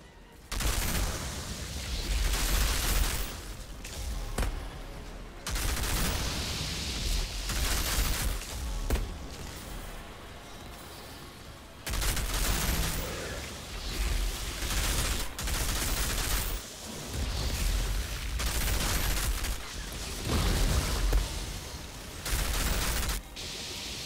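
Video game gunfire from a Techno Flame Lepper loadout rolls along in dense, sustained bursts with short pauses, loud and close, with a faint voice under the shooting.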